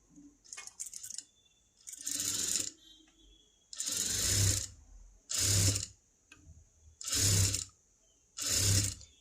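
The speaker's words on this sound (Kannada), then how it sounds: "ಸೊ ನಾನು ಇನ್ನೂ ಒಂದು ಸ್ಟಿಚ್ ಹಾಕ್ಕೊಳ್ತಾ ಇದ್ದೀನಿ." A sewing machine stitches a princess-cut blouse with a boat neck in a string of six short bursts of running, each a second or so long, separated by brief pauses.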